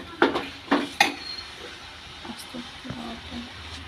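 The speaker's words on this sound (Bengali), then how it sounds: "এবার আমি চালের গুঁড়ি মিশিয়ে দেবো।" Rice flour being stirred into thickened palm pulp in a pot, with a few sharp utensil knocks early on, then soft scraping and light clinks, fairly close and moderately loud.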